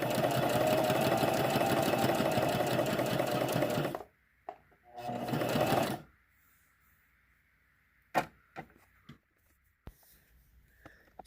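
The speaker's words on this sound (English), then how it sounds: "And that's all the sewing that I'm going to do to attach these little quilt scraps." A sewing machine runs fast and close while sewing quilt scraps, in two bursts, followed by quiet handling clicks and a faint hum.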